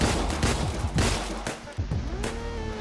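Repeated close gunshots in the shooter Deadbolt, several sharp reports in quick succession over busy game sound and music, loud and dense throughout.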